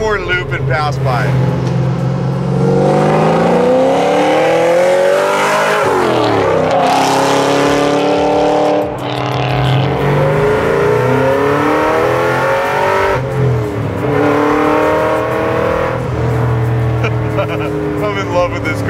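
A supercharged 5.4-liter, 800 hp 1967 Ford Mustang approaches and passes, engine swelling to a loud close roar with rising and falling pitch, then another sweep by later, mostly alone over outdoor ambience.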